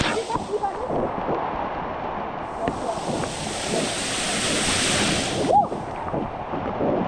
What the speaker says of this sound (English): the water is very strong, hitting my back